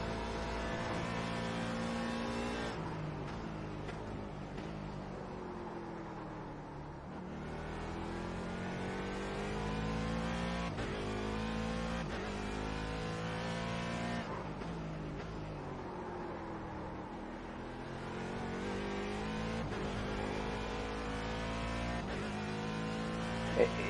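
Race car engine in a racing simulator, driving laps with steady high revs rising and falling through gear changes, near and continuous, with faint tyre squeal and a voice occasionally talking over it.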